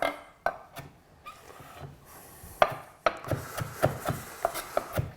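A knife chopping cauliflower for a shrimp cauliflower salad on a cutting board, with a few scattered cuts followed by a quicker run of crisp, fairly close knocks and scraping rubs.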